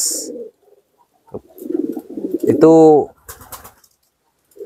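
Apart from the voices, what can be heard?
pigeons cooing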